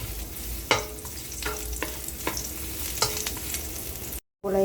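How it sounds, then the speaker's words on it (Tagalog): Garlic sautéing in oil in a frying pan, an even close sizzle broken by a few spatula taps and scrapes, ending in a brief cut of silence. "Yan guys, gisa ko na yung garlic."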